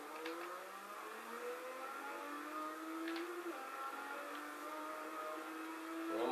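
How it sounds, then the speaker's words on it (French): In Forza 4, a Nissan GT-R R34 or BMW M3 drifting holds its engine near the rev limiter, giving a sustained high whining drone with small pitch wobbles that swells near the end, with no voices. "On monte quand même en rupture hein"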